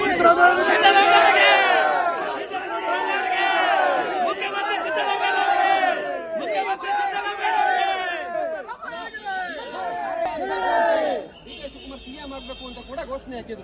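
Congress party workers chant slogans for D.K. Shivakumar at a welcome for the Chief Minister in Mangaluru: a loud crowd of voices shouting in rhythmic, repeated bursts, close and continuous, ending in scattered shouting.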